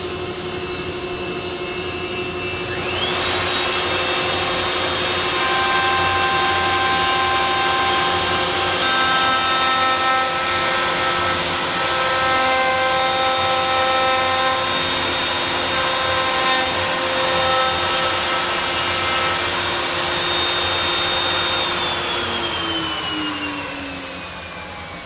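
A power tool whines loudly as it cuts live oak boards for a dining table leaf, spinning up to a sustained high-pitched motor drone that holds steady for about twenty seconds before winding down.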